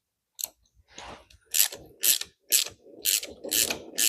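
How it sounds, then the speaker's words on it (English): A ratchet clicks in quick bursts while spark plugs are threaded back into a Vauxhall Nova GSI engine, with sharp repeated ratcheting strokes separated by brief pauses, close and loud. "I'm just going to thread these back in"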